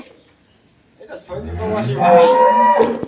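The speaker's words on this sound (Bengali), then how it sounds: "এই যে গরুগুলো দেখছি এখানে দুইটা গাভী গরু দুইটা বাছুর" A cow lets out a single long, low moo close by after a brief quiet moment.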